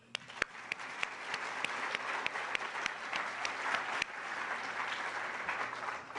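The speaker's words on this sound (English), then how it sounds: "I would just like to give another round of applause to Sky" Audience applause at a presentation, steady and fairly soft, with a few sharper individual claps popping out near the front over the crowd's continuous patter.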